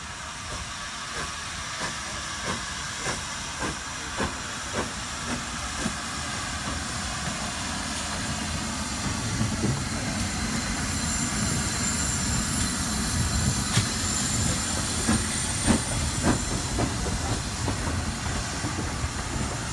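Steam trains run at a heritage railway, a steady hiss of steam under the rumble of rolling rail cars, with faint wheel squeals and clanks heard from a distance, no talking.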